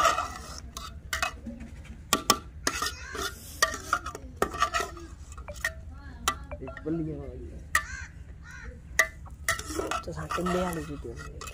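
Rice is stirred in a pot with a metal spoon in a village kitchen, making repeated sharp scrapes and clinks against the pot in an irregular rhythm, close and fairly loud, with faint background sounds between strokes.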